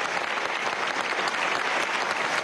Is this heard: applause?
yes